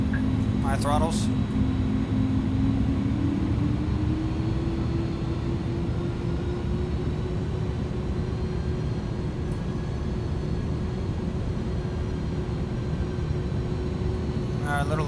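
Airbus A310-300 engines in a flight simulator, a steady loud engine roar with a tone that climbs slightly and then holds, while someone speaks over it.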